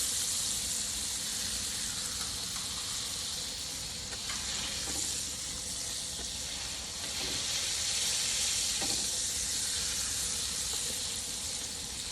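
Burger patties are mashed down on a grill with a lid, giving a loud, steady, close sizzle that continues throughout, with faint scraping as they are pressed.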